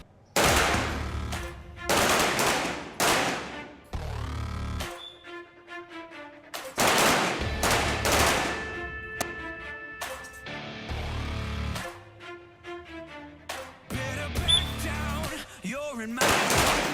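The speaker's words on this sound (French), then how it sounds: "Ici, chaque policier tire plusieurs balles par jour." Gunfire at a police shooting range, with loud, close bursts of rapid shots and single reports separated by brief pauses, all echoing; music plays faintly underneath.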